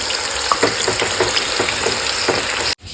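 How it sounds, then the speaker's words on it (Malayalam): Chicken pieces, dropped into hot oil with curry leaves for restaurant-style fried rice, give a steady loud sizzle and crackle with a few sharp pops, running throughout before cutting off abruptly near the end. "ചിക്കൻ അങ്ങോട്ട് ഇട്ട് കൊടുക്കുന്നു."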